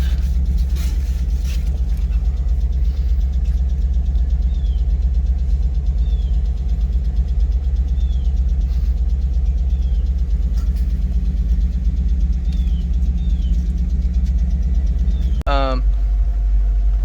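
A Ford Coyote V8 engine in a competition car idles steadily with a deep, continuous low rumble and a faint ticking on top, ending with a brief sharp rattle near the close.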